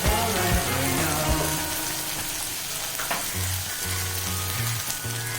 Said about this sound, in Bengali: পরিমাণ মতো দিয়ে নেড়ে চেড়ে মশলাটাকে নেড়ে নিলাম